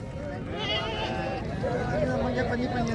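Mundri sheep bleating at a busy outdoor livestock mandi, several wavering calls rising over constant crowd chatter and bargaining voices close by.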